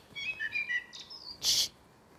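A blackbird's short lockdown song: a few mellow fluted notes followed by a brief, bright, high squeaky flourish, fairly close against a quiet background.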